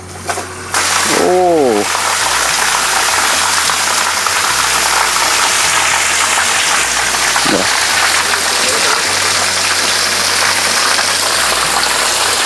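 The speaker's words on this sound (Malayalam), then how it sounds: "നമ്മൾ മോട്ടർ ഇറക്കി നമ്മൾ പമ്പ് ചെയ്യാൻ പോവാണ്" Dewatering pump lowered into an open well, lifting water about 6–7 m through a hose. After a brief quiet start, a loud continuous rush of water and motor hum runs to the end.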